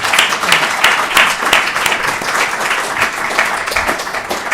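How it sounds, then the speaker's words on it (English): An audience applauds after a sustainability lecture, with loud, dense clapping that holds steady throughout and rises and falls slightly in waves. "A big applause for them."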